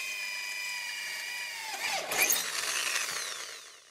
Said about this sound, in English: we just want to drill 2 holes in each end to bolt to the legs